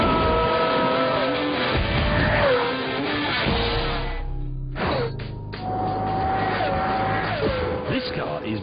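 Pagani Zonda supercar accelerating hard, its engine note rising and falling through gear changes, loud and close, mixed with other sounds and brief gaps.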